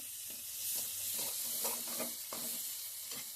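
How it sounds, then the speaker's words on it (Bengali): Onions frying and being stirred in a pan in a home kitchen, a steady close sizzle with soft scraping stirs recurring every half second or so, fairly quiet and with no talk. "এখানে পেঁয়াজ ভাজা হচ্ছে।"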